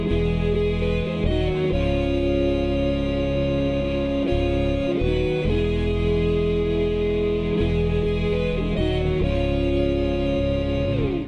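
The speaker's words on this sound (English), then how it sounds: "First up, it's the heavy guitar stacks at the beginning and the end of the tune." Heavy distorted guitar chords, double-tracked and stacked with bass, ring out in long sustained changes, loud and dense throughout with no voices.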